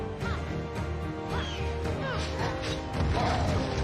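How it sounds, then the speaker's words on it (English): A boss smashes the ground in the video game Immortals Fenyx Rising, heavy crashing impacts and debris in dense, loud combat noise with continuous effects and no speech. "Smashing the ground is also one of his favorite attacks."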